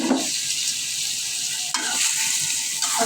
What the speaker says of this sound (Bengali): এবার শাকগুলো দিয়ে কষাই দেবো।